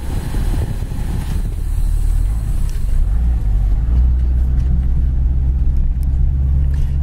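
A red 1966 Ford Mustang GT cruising at about 45 mph, a steady low engine drone and road rumble heard from inside the car, with the tone deepening partway through and no talk.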